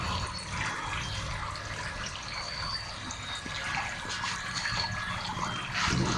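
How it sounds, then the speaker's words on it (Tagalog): Water sprays and splashes continuously into a steel catfish hatchery tank, a steady hissing pour with small trickling variations and no talking. "Basta ho may continuous tubig siya, continuous shower"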